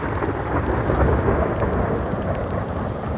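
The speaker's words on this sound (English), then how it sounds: "And that's thunder." Thunder rumbles steadily over an outdoor garden during a storm, a broad, loud roll mixed with the hiss of rain falling on surfaces, with no voices present.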